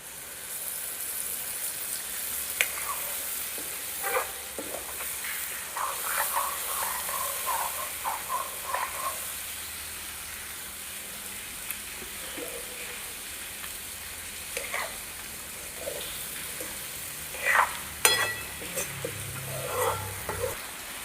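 A pan of spice masala made of chilli, turmeric and coriander-cumin powder fries with a steady near sizzle and hiss, broken by repeated scraping stir strokes and clinks throughout, with no talking.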